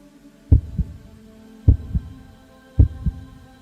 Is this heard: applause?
no